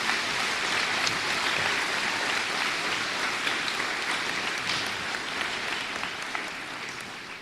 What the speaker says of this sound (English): If we could give all of them a round of applause for what they have done.